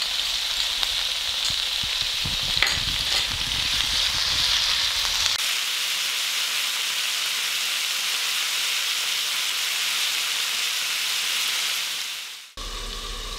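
Ratatouille vegetables with peppers and prickly pear, seasoned with wild fennel, chili and pepper, sizzling steadily in a pan; a loud, even frying hiss with brief stirring at first, then a sharp cut to quieter sizzling near the end.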